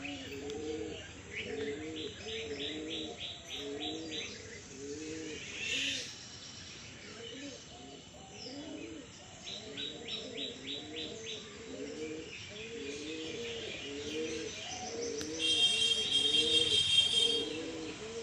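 Pet Madras and Giribaz pigeons coo in repeated low, rolling phrases close by, with higher chirps and tweets from other birds scattered over them and brief bursts of bright calls near the end.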